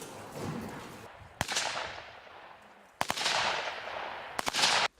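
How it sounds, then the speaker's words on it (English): Automatic weapons fire in sharp bursts at an outdoor training camp in eastern Ukraine, loud cracks with long rolling echoes trailing off between volleys. "The automatic weapon training is the most important."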